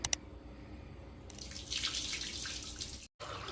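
Sago pearls being rinsed in water, with a faucet stream and sloshing, swirling water in a vessel, steady and close, briefly cutting off near the end before resuming.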